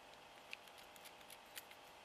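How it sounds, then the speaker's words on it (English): Scissors snipping, a few light, crisp cuts over steady background hiss, faint and close with no talk. "I don't know if these scissors will work."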